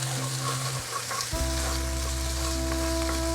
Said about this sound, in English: Oh, there we go, we got a right old sizzle on